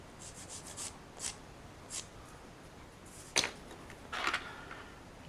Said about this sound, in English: So using a different knife, I'm going to slowly shave away that flash to make it a little bit more flush.